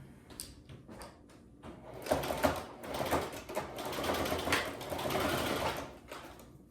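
Sewing machine stitching in bursts of rapid mechanical chatter, close by, with short pauses between runs and a busier stretch toward the end.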